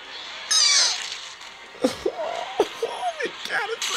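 A pet house cat meows repeatedly and close by, a series of short, rising and falling cries following an earlier bright, hissy burst of noise.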